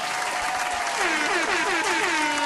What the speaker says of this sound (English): We get the claps because that was a pretty good combo.